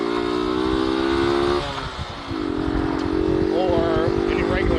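A 1967 Honda CL90 motorcycle engine drones steadily while riding, with a brief dip in pitch around a gear change before it climbs again, loud and close throughout.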